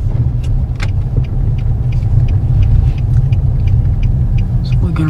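A car driving along small-town side streets in Talbotton, Georgia, with a steady low engine rumble and road noise from inside the vehicle and faint ticking sounds throughout.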